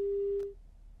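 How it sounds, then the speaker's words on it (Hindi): After a phone call drops, a single steady telephone busy tone sounds for about half a second and then cuts off into near silence. "चलिए, शायद फोन डिस्कनेक्ट हुआ है, दोबारा कनेक्ट करने की कोशिश करेंगे।"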